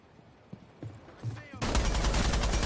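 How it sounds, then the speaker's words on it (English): Gunfire in the tactical shooter Rainbow Six Siege, starting as scattered distant pops, then breaking into a sustained loud burst of rapid shots for the last second or so. "You hear those gunshots?"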